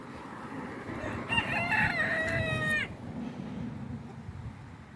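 A rooster crows once in a garden near a greenhouse, a loud, close, wavering call lasting about a second and a half over low wind and background rustle.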